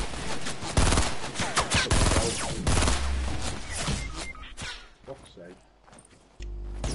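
Rapid bursts of video game gunfire crackle loudly and close, overlapping with energetic talk from players, thinning out toward the end.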